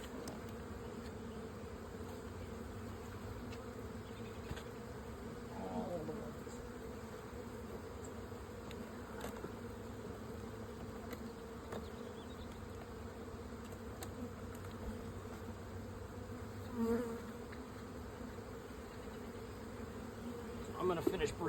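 Honeybees hum around an opened hive being broken down, a soft, steady drone of many wings with a few faint knocks and rustles, no talking.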